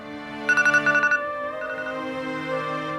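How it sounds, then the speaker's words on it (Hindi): A phone ringtone chimes in two quick bursts of electronic tones, then fades into quieter sustained musical notes. "उन्हीं का फोन है।"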